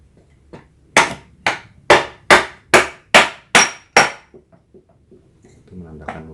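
Eight loud, evenly spaced hammer blows ring out while a Suzuki Satria FU 150 motorcycle engine is knocked apart, each strike sharp and close. Fainter taps and a little background noise follow.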